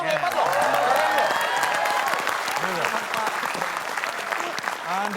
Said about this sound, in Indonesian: Tepuk tangan dong, hebat loh. Keren loh.